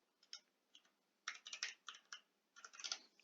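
Keys clack on a computer keyboard in short, light bursts of typing, with a few isolated taps followed by quicker clusters of keystrokes, close and fairly soft.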